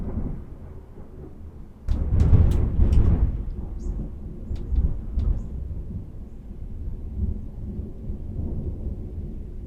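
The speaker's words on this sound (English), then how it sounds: "There's a thunderstorm going on right now" Thunder rumbles loudly and rolls on over steady rain, with a few sharp crackles, then settles into continued downpour with lighter rumbling.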